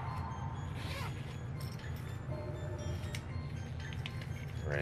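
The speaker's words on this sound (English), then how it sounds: "So now let's unzip it and get the rod out." Unzipping a case holding a Megabass Destroyer P5 "Landsat" spinning rod, a steady zipper rasp running the whole time at close range with no talk.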